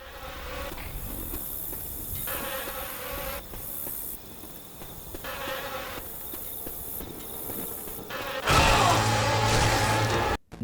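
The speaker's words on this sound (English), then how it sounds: "they're replaced by the buzzing flies of Dramin" Buzzing flies from the Dramin Jockey in a Mortal Kombat mod of Left 4 Dead, a steady insect drone running throughout, with a louder, harsher burst near the end.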